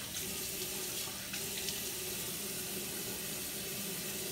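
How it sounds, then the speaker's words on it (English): Water runs steadily from a faucet into a sink while a facial cleansing brush and face are rinsed, a soft continuous hiss with faint splashing, heard close and alone. "Go ahead and rinse this brush real good, and then rinse your face real good, of course."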